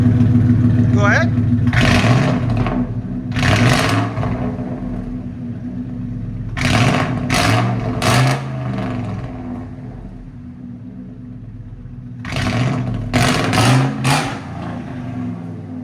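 A 1999–2004 Ford F-150 with a 4.6L V8 and loud aftermarket exhaust is revved hard in short bursts, single and in clusters of three, each roaring up and dropping back to a rumbling idle between them.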